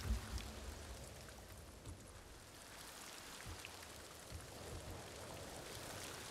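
Heavy rain falls in Ghost of Tsushima as a faint, steady wash of drops and patter with no pauses, heard alone with no voices.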